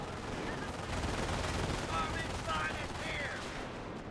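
Rapid gunfire from a Company of Heroes 1 battle, a continuous rattle of rifle and machine-gun shots with distant explosions, steady and dense throughout, with no talking.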